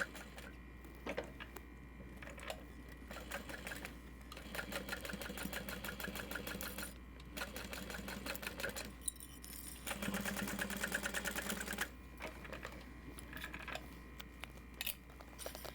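A sewing machine back stitching the seam of a Sarah Bag made up as a backpack, running in several bursts of rapid mechanical ticking with short pauses between them, fairly close and with no one talking.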